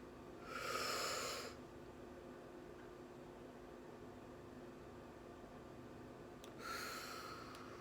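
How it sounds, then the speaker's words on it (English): Two deep, close breaths: a long airy inhale near the start and another breath late in the clip, separated by quiet hiss from a car on a road trip. "Breathe in, breathe out."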